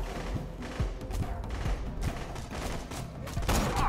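Rapid gunfire in the video game Borderlands 2, a steady series of sharp shots roughly every half second, loud and close, with no talk in the clip.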